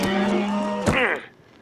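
A cow in cattle country gives a single long, loud moo that bends upward near its end before fading into quiet.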